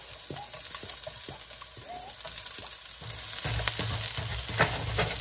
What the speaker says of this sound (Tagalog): gigisa lang po natin hanggang mag-golden brown yung ating sibuyas tsaka bawang